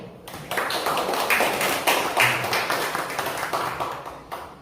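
Gallery audience at a solo painting exhibition opening in Seoul applauding, a steady wash of many hands clapping close by, swelling and then tapering off near the end.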